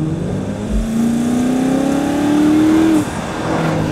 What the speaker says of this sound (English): Well, it is a nice engine. It sounds pretty cool.